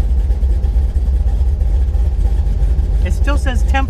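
Car engine at a steady idle, rumbling loud and close throughout, with a voice speaking briefly near the end.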